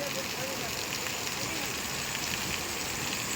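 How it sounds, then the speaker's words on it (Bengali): Heavy, steady rain pouring in Bhaluka after an hour of downpour, a dense even hiss filling the clip without letup. "তোমাদেরকে দেখাচ্ছি আমাদের এখানে বেশ জোর বৃষ্টি"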